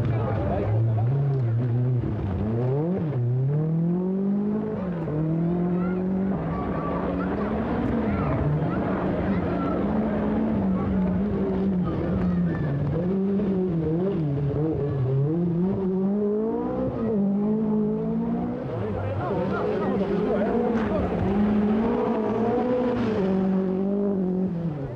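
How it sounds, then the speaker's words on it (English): A four-wheel-drive Peugeot 205 T16 Group B rally car runs gently on gravel roads, its engine droning and shifting pitch steadily throughout, loud and continuous with voices talking over it. "Ari Vatanen is playing himself in gently with a new four-wheel drive Peugeot 205"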